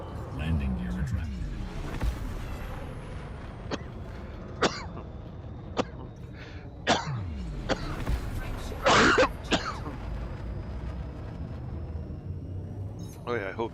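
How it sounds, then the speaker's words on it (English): A person coughs and clears their throat during a space-flight game session, short bursts over steady engine-like drone and scattered game beeps. "I hope this cough goes away soon"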